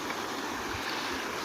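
Clear, clean stream water flows in the Shoolpani area along the Narmada, a steady soft rushing babble heard alone and fairly close.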